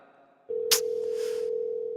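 A phone call keeps ringing with nobody answering: after a short quiet stretch a steady, loud ringback tone begins and holds without a break, with one brief click or rustle early on.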